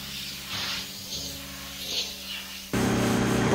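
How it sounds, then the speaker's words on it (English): A pressure washer drones steadily in the background on a catamaran sailboat, a faint hiss at first that suddenly grows louder and fuller near the end, with no one talking. "If you hear that noise in the background, that's Becky pressure washing"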